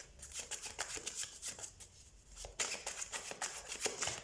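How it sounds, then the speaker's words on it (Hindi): A deck of tarot cards is shuffled close by in soft, quick riffling bursts, a fairly quiet repeated flutter and snap of cards. "सबसे पहले हम कार्ड शफल कर लेते हैं।"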